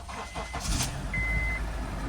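An early V8 Porsche engine that has sat unused a long time cranks briefly, then catches into a steady, deep rumbling idle, close by.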